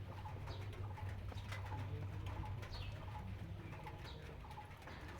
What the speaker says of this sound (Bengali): ও এখানে কবুতর